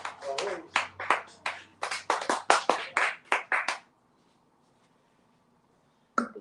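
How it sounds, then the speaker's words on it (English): An audience gives a short burst of uneven, separate handclaps, close and fairly loud, for a few seconds before stopping into near silence, with one more brief sound at the very end. "Another round of applause"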